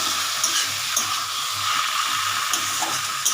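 Banana stem curry frying and being stirred in a pan, a continuous close sizzle with light spatula scrapes and soft clinks scattered through it.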